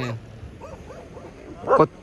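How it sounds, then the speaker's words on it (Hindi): Dogs bark and whimper faintly in the background outdoors, a few soft yelps followed by one louder bark near the end. "कुत्तों ने जो बैकग्राउंड साउंड हम लोग को दिया हुआ है"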